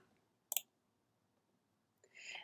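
A single sharp computer mouse click sounds once in a quiet room, followed a moment later by a brief soft hiss.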